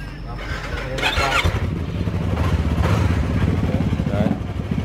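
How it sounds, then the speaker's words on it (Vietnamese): A motorcycle engine cranks and catches, then settles into a steady, close running rumble; the bike is a used 300cc–650cc sport motorcycle with about 1,000 km on it, and someone talks over it. "phải mò nổ máy cho anh em ha"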